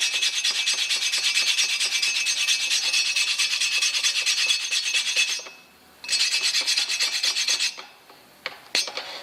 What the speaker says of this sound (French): Ce qu'on peut faire déjà, c'est frotter